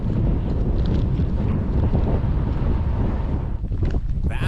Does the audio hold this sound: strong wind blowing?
yes